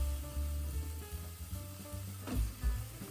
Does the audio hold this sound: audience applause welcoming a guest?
no